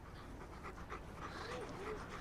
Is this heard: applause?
no